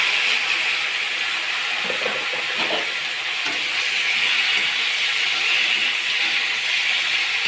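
Vegetables and a mixed spice paste frying in a pan, giving a loud steady hiss and sizzle with a few faint stirring sounds underneath.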